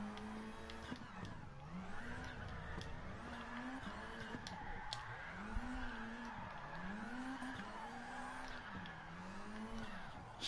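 A race car in Gran Turismo Sport revs and shifts through repeated rising engine sweeps while its tires squeal through drifts, steady and moderately loud with no talking.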